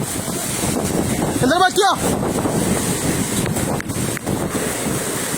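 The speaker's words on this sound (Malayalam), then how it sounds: "വണ്ടികളൊക്കെ മറിഞ്ഞു പെരും കാറ്റ്" Strong wind storm strong enough to overturn vehicles, heavy continuous gusting roar buffeting the microphone close-up, with a person speaking briefly over it.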